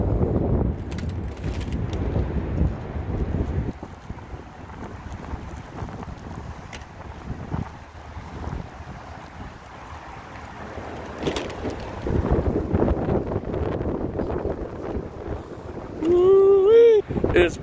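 Cold western wind buffeting a microphone outdoors, steady low rumbling gusts throughout, with a voice briefly heard near the end.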